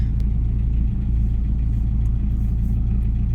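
A car engine idles low and steady as the car slowly pulls out of a parking space, a constant deep hum with no voices.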